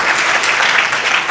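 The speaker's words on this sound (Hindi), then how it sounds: "मैं चाहूँगा इनके लिए भी जरूर तालियां बजाएं" Audience applause at a Shikohabad environmental group's 21st foundation day function, a dense steady clapping from a crowd, loud and continuous without pause.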